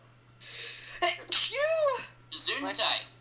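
A single sharp sneeze bursts out at close range, set among brief voiced sounds and a short gasp-like breath, with people talking around it during a lively game show.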